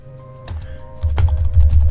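Computer keyboard typing while coding a Node.js API, a short burst of key clicks over a steady low room hum, fairly close and with no talking.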